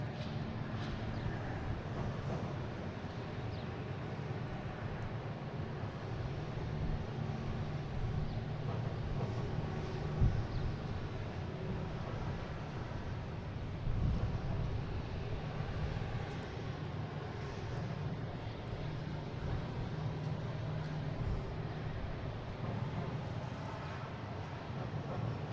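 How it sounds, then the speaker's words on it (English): Low, steady rumble of an Air Canada airliner arriving from Toronto at Boston Logan, distant jet noise sustained throughout with slight swells, no talk. "we just had an Air Canada coming in from Toronto"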